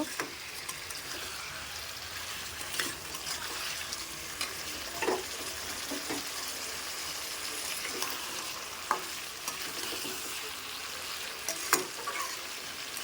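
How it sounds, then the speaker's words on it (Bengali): Chicken pieces fry in hot oil while being stirred in a pan, a soft continuous sizzle with scattered scraping and clinking of the utensil, fairly quiet and close, without speech. "আগে আমি আজকে মাংসটা তেলের পরে দিয়ে একটু নাড়িয়ে চাড়িয়ে নেব"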